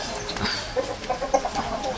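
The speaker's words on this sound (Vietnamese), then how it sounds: "họ nó nuôi gà vậy nè cả nhà đó" Chickens cluck in short, irregular bursts on a farm at a country-style restaurant outside Resende, Brazil, heard fairly close over outdoor background noise.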